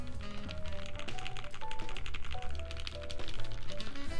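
Fast, steady clacking of a mechanical keyboard with ABS keycaps being typed on close up, continuous keystrokes with soft music playing underneath.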